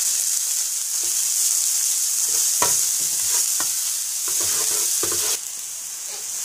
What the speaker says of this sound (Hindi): जो काट के रखा हुआ प्याज था वो डालेंगे।